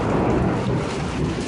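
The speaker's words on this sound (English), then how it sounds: "that it's thundering and lightning out and pouring?" Thunder rumbles low and heavy through a rainstorm, a sustained deep roll lasting over a second beneath the steady wash of rain.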